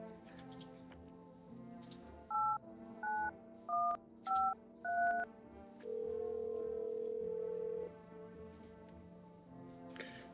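Telephone number dialed in the video game No, I'm not a Human: five crisp, evenly spaced keypad tones, then a longer steady ringing tone, all fairly quiet over a faint low background hum.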